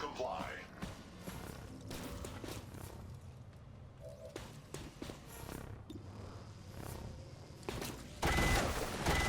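Gunfire in XCOM 2 aimed at a Viper: sharp bursts of shots amid battle sounds, with someone commentating over the action.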